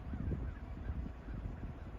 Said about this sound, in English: 21 turkeys out there